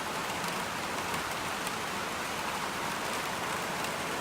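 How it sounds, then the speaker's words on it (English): Light rain falls steadily in the wake of a supercell thunderstorm, an even, fine hiss of drops on surfaces, soft and continuous with no voices. "at least we're getting a little bit of rain out of it."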